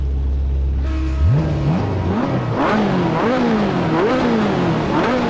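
A Ferrari engine in the racing game Assetto Corsa idles low, then revs repeatedly, pitch sweeping up and down in quick surges, loud and close throughout.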